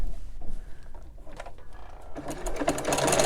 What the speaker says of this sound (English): and then I start sewing again.